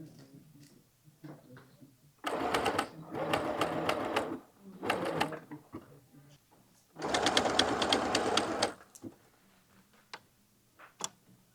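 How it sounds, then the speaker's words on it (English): A sewing machine runs a zigzag stitch along the middle of a quilted jelly roll coaster. It rattles in two or three steady bursts separated by pauses, with light clicks and ticks in between. "you'll take a zigzag stitch and stitch your middle together so that it closes the gap"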